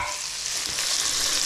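Garlic sizzles in a hot pan for a smoked bacon and cheese curd pasta, a steady close crackling hiss with no talk over it.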